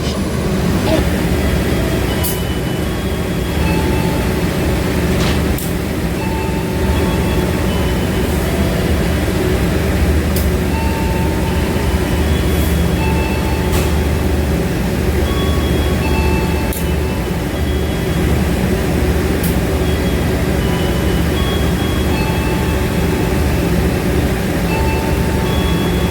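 Passenger train ride on the GMR YK extra service in Indonesia, a steady loud rumble of the carriage interior with rolling wheel noise and faint clicks throughout, no talk.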